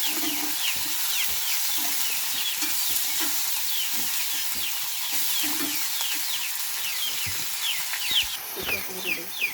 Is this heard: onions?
yes